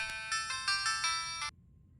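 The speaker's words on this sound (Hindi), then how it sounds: "लगता है अभी आपका फोन है।" A mobile phone ringtone plays, a bright repeating melodic tone in short pulses for about a second and a half, then stops abruptly, with no talk over it.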